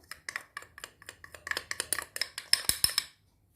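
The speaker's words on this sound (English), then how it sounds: "I'm going to give this a mix" Cake batter for jam slices, with vanilla essence, salt and custard powder, being mixed in a bowl: a quick run of close, light scraping and clinking strokes that quicken and grow louder toward the end, with no talk.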